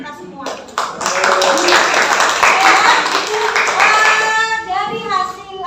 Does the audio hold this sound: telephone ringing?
no